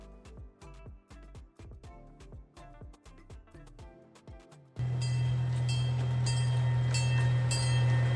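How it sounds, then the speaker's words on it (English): A small train in Vancouver's Stanley Park clatters past with rhythmic wheel clicks, then a loud steady rumble and hum take over as it draws close. "we were able to catch the train leaving and returning to the station"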